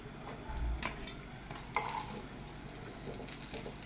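Food fries in a pan with a continuous sizzle, broken by a few sharp clinks and scrapes of a utensil stirring against the pan, close and without talk.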